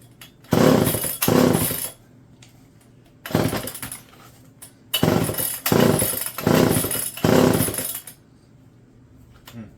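A rare blue Homelite EZ chainsaw engine fires up, revving loudly in several rough bursts of a second or two each, dropping to near-silence between attempts as it tries to keep running.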